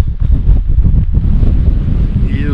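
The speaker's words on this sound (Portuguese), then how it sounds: "Nosso vento tá terrível." Strong coastal wind at Península Valdés in Patagonia buffets the microphone in heavy, rumbling gusts, loud and close, with the faint wash of the sea underneath.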